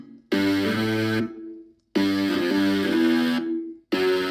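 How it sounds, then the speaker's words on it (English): Self-made synthesized electric bass plays two sustained, distorted bass phrases with rich harmonics, each note held about a second before cutting off, followed by the start of a third; no one talks over it. "So it's this electric bass that I made."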